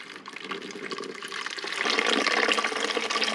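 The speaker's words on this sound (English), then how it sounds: "You see how that water shoots out." Water gushing out of the drain of an Avalon bottom-loading water cooler into a container, a steady splashing pour that swells louder partway through, close by with no talk.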